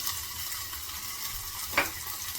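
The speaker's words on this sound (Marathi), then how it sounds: "मी आता हे बटाटा आणि कोथिंबीर तेलामध्ये टाकते" Potato and coriander fry in hot oil with a steady, soft sizzle and one brief stirring clink partway through. Nobody speaks over it.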